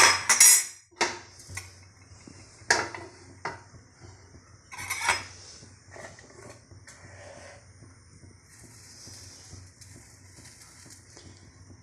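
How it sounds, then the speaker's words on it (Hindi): Metal utensils clink and scrape against a pot while dal is tempered with tadka in a home kitchen, several sharp clatters early on, then softer intermittent knocks and stirring over a faint background hum. "आप दाल में तड़का लगा दें।"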